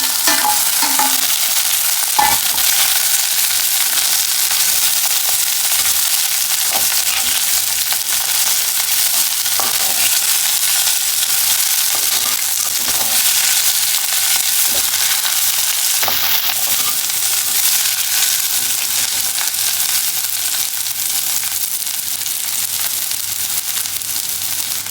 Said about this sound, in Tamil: மீன் வெட்டின வாழைப்பத்தியை போடுவோம்.